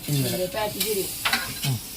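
Food sizzles and crackles steadily in hot coconut oil, with a few sharp clinks of a utensil stirring in the pan.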